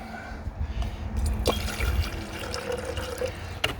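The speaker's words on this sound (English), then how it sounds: "And then I'll just put some more water" Water trickles and pours into a gold refining solution made with nitric acid, a steady liquid splash with a few faint clinks, close up and alone.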